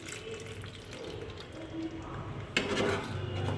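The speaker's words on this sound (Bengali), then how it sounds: "এই অবস্থায় আমি মিক্সিটা ধুয়ে একটু আর কি জল দিয়ে দিচ্ছি" Water sloshes and pours as a mixer jar is rinsed and emptied into a pan while cooking black pepper malai chicken, with soft liquid splashing, a sudden louder pour partway through and light clinks of kitchenware.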